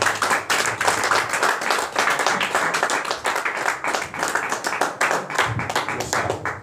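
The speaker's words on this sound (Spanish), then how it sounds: "Denle un aplauso al Señor." A church congregation bursts into dense, sustained applause for the Lord, with many hands clapping at once in a continuous, lively patter.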